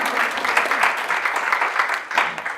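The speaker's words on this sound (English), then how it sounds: "So I'm applauding all of you right now" A crowd's brisk, steady round of applause fills the room, close and fairly loud with a continuous wash of many hands clapping.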